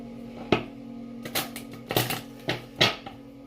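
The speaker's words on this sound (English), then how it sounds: "I'm going to cut them, shuffle them one more time" A deck of tarot cards is cut and shuffled by hand, giving a handful of soft, papery riffles and slaps spaced unevenly over a few seconds, close by and fairly quiet.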